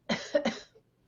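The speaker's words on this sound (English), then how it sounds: "tis the season to be coughing" A man coughs twice in quick succession, close and fairly loud, followed by a faint throat sound before silence.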